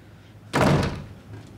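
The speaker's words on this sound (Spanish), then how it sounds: "¡Cierre la puerta!" A door slams shut once, a loud close thud that decays over about a second in a quiet room, with no one talking.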